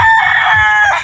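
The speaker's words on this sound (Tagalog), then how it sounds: "Asan yung manok mo?" A rooster crows loudly and close by in one sustained, strained call lasting about a second, heard alone with no talk.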